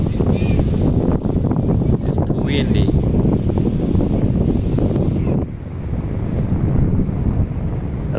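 Strong wind buffets the microphone in a steady, roaring rush at a beach in Patong, Phuket, Thailand, with surf faintly beneath and a voice speaking briefly over it.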